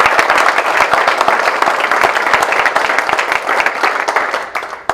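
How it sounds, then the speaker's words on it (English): Loud, sustained applause from a crowd at a United Way campaign celebration, a thick, continuous crackle of many hands clapping close by that tapers off just at the end. "Let's give these folks a round of applause"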